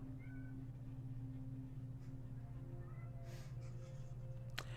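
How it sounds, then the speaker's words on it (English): Thin, drawn-out cat meows come and go at low volume over a constant deep droning hum, ending with a brief sharp click. "And a cat."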